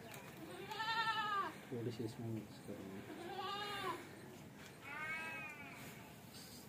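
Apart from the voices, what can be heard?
goats bleating at feeding time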